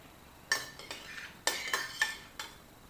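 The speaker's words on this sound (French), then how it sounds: "Je vais mélanger le tout." A spoon stirs a small amount of marinade with a touch of oil in a bowl, giving a few quiet clinks and scrapes that come in uneven bursts with short gaps between them.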